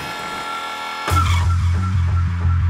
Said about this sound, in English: I'll drill over here and then I can patch it up at the end.